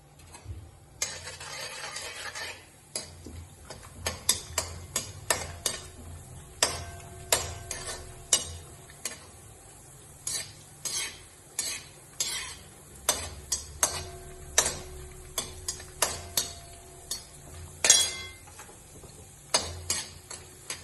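Cashews frying in tempering oil in a pan while being stirred: a soft sizzle runs under frequent sharp clicks and taps from the spoon against the pan, close by, with no talking.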